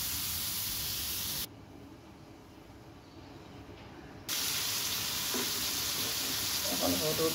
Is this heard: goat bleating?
no